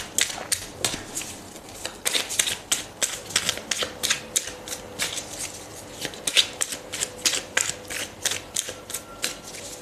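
Tarot cards being shuffled by hand at close range, a steady run of crisp riffling snaps in quick rhythmic bursts for about ten seconds.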